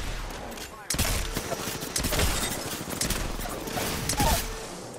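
Shotgun blasts and other gunfire crack through a fast-paced shooter match, several sharp bursts over a dense, steady wash of battle noise, with players talking underneath.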